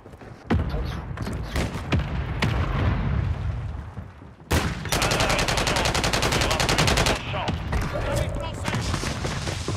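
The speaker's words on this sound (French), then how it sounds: "frappe de mortier en approche" Mortar strike in Warzone, a series of heavy blasts and thuds mixed with rapid gunfire, loud, with a sharp burst midway, while players talk.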